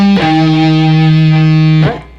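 A distorted electric guitar tuned to open D plays a riff, here a loud sustained low note with bright overtones ringing for under two seconds before cutting off, close and alone.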